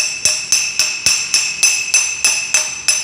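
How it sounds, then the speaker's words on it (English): Small hammer tapping a bearing driver onto an engine part, about ten sharp metallic strikes in a steady rhythm with bright ringing overtones, close and loud with no talking. "I'm gonna just tap it on with a little hammer."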